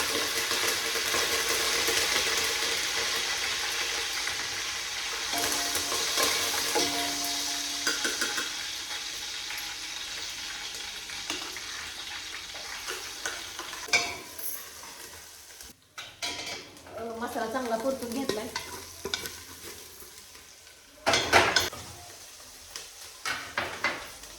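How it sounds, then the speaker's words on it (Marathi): Onion with chilli powder, salt, turmeric and other spices frying in oil in a cooking pot, a steady close sizzle with bursts of stirring and clanking utensils, no voices. "सगळं साईडला काढलेलं तिखट मीठ मसाले हळद वगैरे ते पातेल्यात टाकून चांगलं परतून घ्यायचं"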